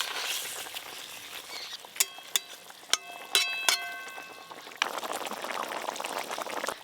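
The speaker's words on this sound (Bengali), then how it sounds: "এবার ঝোলের মধ্যে এই মাছগুলো দিয়ে খুব ভালো করে ফুটিয়ে নেব।" Fish pieces go into a pot of curry gravy, bringing a soft simmering bubble with several sharp clinks and taps of a utensil against the pot, then a louder, denser sizzling swell.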